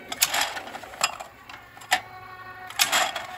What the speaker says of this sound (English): the trap is constantly moving and it does not stop